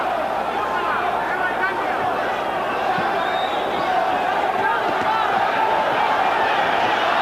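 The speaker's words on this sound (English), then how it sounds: "the crowd goes insane with every punch" A boxing crowd at the Julio Cesar Chavez versus Kostya Tszyu fight roars steadily and loudly for the full stretch, a dense, sustained wall of cheering and yelling with no breaks, as a commentator's voice runs underneath.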